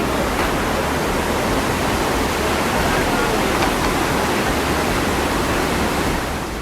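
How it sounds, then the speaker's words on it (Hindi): Fast-flowing river floodwater, strong enough to wash away a road, makes a dense, steady roar of rushing water that stays loud and unbroken throughout. "नदी के पानी का बहाव इतना तेज था कि एक सड़क बह गई"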